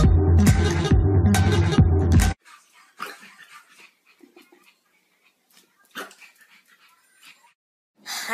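Loud music plays briefly, then stops; afterward a dog whimpers and yips softly in short, scattered bursts amid near silence.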